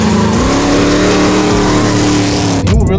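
A roaring 850hp burnout car engine revs hard and loud, holding a steady high-pitched drone for most of the moment before dropping off and surging again near the end, with no talk over it.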